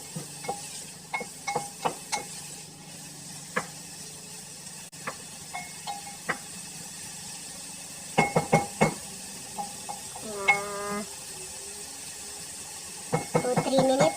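Onions being sautéed for Ilocano igado, with a soft background sizzle and repeated close scrapes and clicks of a spatula stirring the pan, intermittent and moderately loud, while a voice speaks faintly at times.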